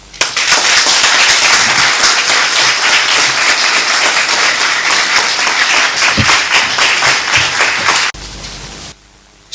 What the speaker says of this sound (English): I think she deserves another round of applause.